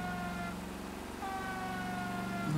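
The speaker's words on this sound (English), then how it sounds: "I'm having more fun with the siren, really." A video game police siren in LA Noire wails, sustaining its tones over a low engine rumble, shifting pitch midway through.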